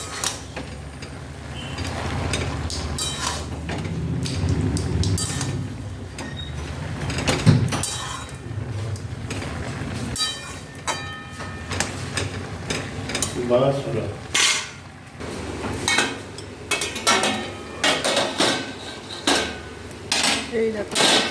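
A utensil stirs pumpkin greens in a pan on a gas stove, giving repeated close metallic scrapes and clatters with irregular pauses across the stretch, with no talking.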